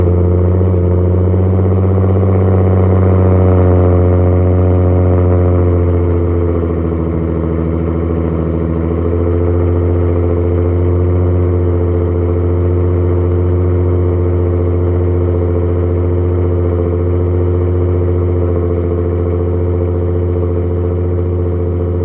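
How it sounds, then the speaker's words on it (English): Nissan 350Z with a rear-mount turbo and Tomei exhaust on a cold start, holding a loud, steady, deep idle throughout with a brief early swell in revs. "I'm gonna go ahead and record the first cold start with the TOMEI."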